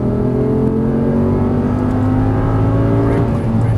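An Audi R8 engine accelerates under throttle, a loud continuous roar with rising harmonic tones, close and steady throughout.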